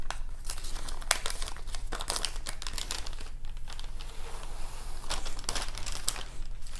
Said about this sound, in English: you take and remove the paper backing